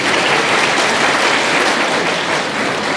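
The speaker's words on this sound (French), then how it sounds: "veuillez acclamer notre partenaire" Audience at a university human rights club forum applauding a partner, steady dense clapping from many hands that fills the room, loud and sustained without pause.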